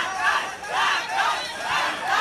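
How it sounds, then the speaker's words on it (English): A sports crowd chants and cheers in rhythmic swelling waves, loud and continuous across a packed arena. "The crowd get into the game."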